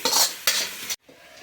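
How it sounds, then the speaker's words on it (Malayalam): Soy sauce and chilli sauce being stirred into egg fried rice in a pan, two brisk scraping strokes with sizzling, then a pause and quieter frying. "ഇവ ഒഴിച്ചതിന് ശേഷം നന്നായി ഇളക്കിയെടുക്കുക"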